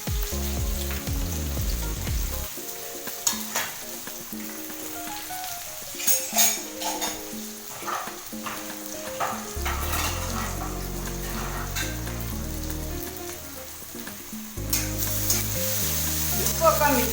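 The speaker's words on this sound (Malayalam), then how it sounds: "അപ്പോൾ വെല്ലുള്ളി, പച്ചമുളക്, കറിവേപ്പില ഇട്ടണം. അത് അടക്കി കൊടുക്കണം." Mustard seeds, garlic, green chili and curry leaves fry in hot oil as a tempering for a Kerala-style egg curry, giving a steady close sizzle with stirring over background music.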